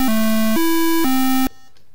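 Square-wave chiptune pattern from HoustonTracker 2.30 running on a graphing calculator: a loud, buzzy three-note sequence of sustained stepped tones, each held about half a second, cutting off abruptly into silence.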